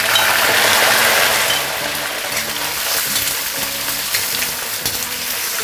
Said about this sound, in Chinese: 接下来下入剩下的鸡肉